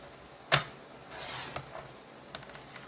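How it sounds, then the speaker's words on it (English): A paper trimmer gives one sharp crisp slice, followed by soft sliding and faint clicks as a strip is cut for a handmade card. "I am going to cut a strip that goes all the way down my card."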